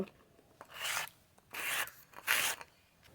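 Ginger and garlic are ground into paste on a grinding stone, three close, rasping scrapes following one another at an even pace with no talking.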